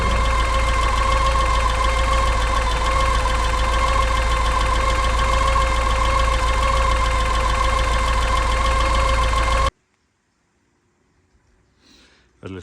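A Porsche 944 engine running and idling on its own, a loud steady close-up hum with a constant rumble and knocking undertone that cuts off abruptly after about ten seconds, followed by near silence and a faint rustle.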